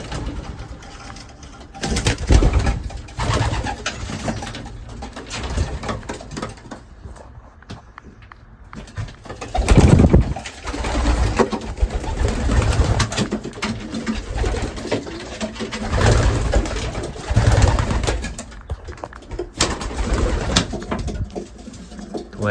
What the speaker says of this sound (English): there go the young birds.